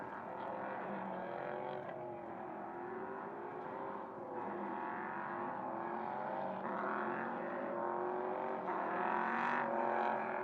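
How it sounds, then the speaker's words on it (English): Prototype race cars at the Mugello circuit revving and braking on a hot late afternoon, heard as a continuous, fairly faint engine drone with rising and falling pitch sweeps, steady throughout. "The cars now, as you can hear, revving up and then hitting the brakes just to try and get some temperature in the brakes"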